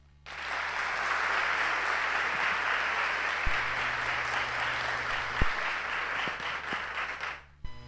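An audience at a talk during the Tiradentes Creative Week in 2021 gives sustained, even applause that begins abruptly and stops suddenly, with a few low thumps scattered through it.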